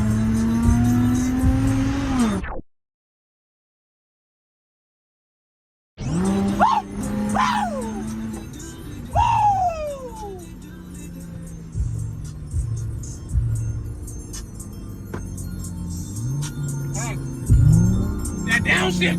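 An Infiniti G35 coupe revs hard and downshifts, engine note rising and dropping in loud bursts with tire noise, passing near, while people talk and shout over it.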